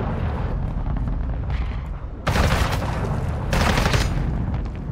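Continuous Call of Duty: Modern Warfare II gunfire, dense overlapping automatic bursts and heavy blasts filling the whole span, with two louder stretches of close firing and no talk.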